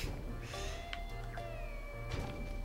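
A cat meows in the PS2 game Fairly OddParents: Shadow Showdown, a few short cries over steady game music and background ambience, with no talking.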